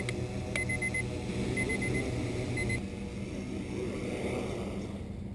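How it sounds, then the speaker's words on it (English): A kitchen timer alarm goes off with short, repeated high beeps in a steady pulsing pattern, moderately faint over a background of outdoor hum and engine-like drone. "That's me kitchen timer on."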